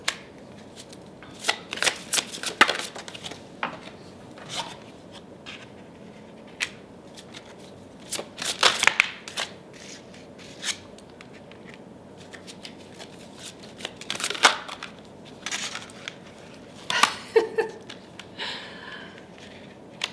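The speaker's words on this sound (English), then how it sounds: "I actually didn't have to shuffle very long at all." Tarot cards shuffled by hand, close and crisp: irregular riffles and flutters of card stock in bursts with quiet pauses, some slaps and cards sliding out near the end, no talking.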